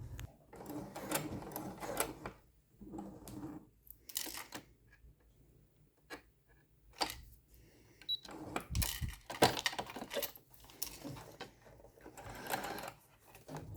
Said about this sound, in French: Je pique tranquillement jusqu'à arriver à mon point de départ.